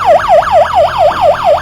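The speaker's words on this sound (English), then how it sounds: "You got a light and a siren so somebody can hear you." A crank and solar-powered emergency radio blares its built-in siren, a loud electronic wail sweeping up and down in a fast, steady cycle, close and alone.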